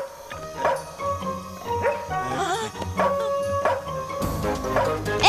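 A dog barks repeatedly in short bursts, mixed with whimpering yips amid background noise and music.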